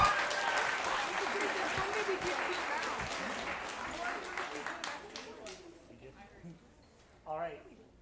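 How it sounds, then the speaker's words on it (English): Concert audience applauds the advanced band with a sustained wash of clapping that gradually thins and fades, then gives way to a brief voice at the end. "Another big round of applause for our advanced band."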